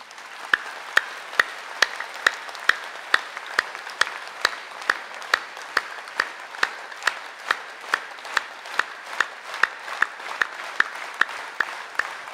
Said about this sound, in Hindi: ताली बजाओ मस्ती से।